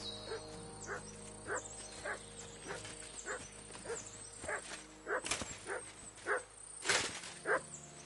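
Dog named Mutt in the video game Kingdom Come: Deliverance II barking repeatedly in a steady rhythm of short yips and woofs, fairly close, with a louder burst near the end.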